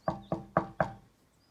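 Four firm knocks on a heavy door, evenly spaced and close, each with a short hollow resonance.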